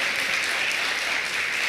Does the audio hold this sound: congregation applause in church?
yes